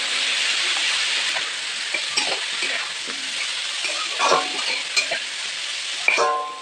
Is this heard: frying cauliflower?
yes